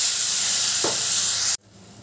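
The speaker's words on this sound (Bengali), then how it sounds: "ওই মশলার বাটিটা ধুয়ে একটু জল দিয়ে দিলাম" Water poured into spice paste frying in oil for a small-fish curry, a loud dense hissing sizzle that cuts off abruptly into a quieter bubbling simmer.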